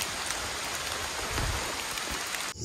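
Rain falls in a forest as a dense, even roar of drops on leaves and ground, loud and unbroken with no voices.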